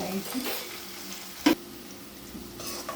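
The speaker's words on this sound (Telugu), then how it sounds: "ఎండుమిర్చి, కరివేపాకు బ్రౌన్ రంగు వచ్చేదాకా" Dry red chillies and curry leaves frying in a pan until brown for a Konaseema-style coconut tindora fry, a steady soft sizzle with faint stirring scrapes and one sharp clink midway.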